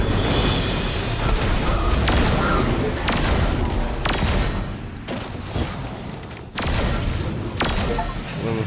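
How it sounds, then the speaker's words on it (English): Explosions and gunfire in the video game Destiny 2 as a mining lander ship is destroyed, a dense run of loud booms and sharp blasts recurring about every second over a rumbling battle backdrop. "I heard those explosions from here."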